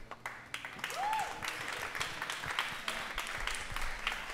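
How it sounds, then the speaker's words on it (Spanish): A studio audience claps at a Costa Rican music show, a moderate patter of applause with a faint tonal sweep early on and some background voices mixed in. "Que siga el aplauso."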